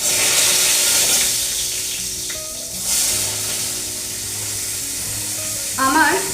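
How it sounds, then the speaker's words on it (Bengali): Eggplant slices frying in a pan of hot oil give a steady, close sizzle that runs through nearly the whole stretch, with a brief clink of utensils partway through and a few small kitchen knocks near the end. "বেগুনটা এবার ভেজে নিচ্ছি।"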